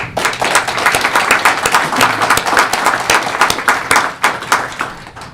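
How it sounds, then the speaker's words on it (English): Audience at a school board meeting clapping for honored teachers, a sparse room of individual claps rising and falling unevenly, close and distinct, lasting several seconds. "So if we could give both Dana and Raina a round of applause."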